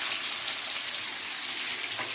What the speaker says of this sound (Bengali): এখন পেঁয়াজটা দিয়ে দেবো, পেঁয়াজ আর টমেটো সাথে একসাথে দিয়ে দিচ্ছি।